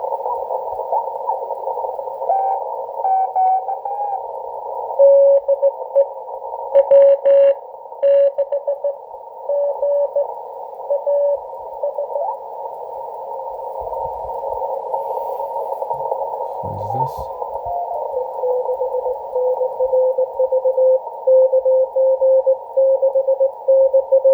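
Strong ham radio signals come through a Yaesu FTdx10 on a dipole antenna after midnight: a steady, loud tonal band of received signals with shifting pitches and brief static bursts, continuous throughout with no talk.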